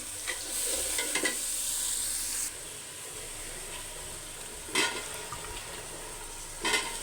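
Onions and chopped vegetables fry in a pan with a steady sizzle, and a spatula scrapes through them in a few louder stirring bursts before the hiss settles.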